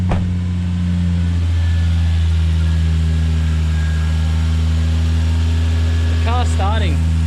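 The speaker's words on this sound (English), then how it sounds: "The car's starting up after we've touched it," A car with faulty sensors starts and settles into a steady, loud idle, a low continuous engine hum running throughout with a brief voice near the end.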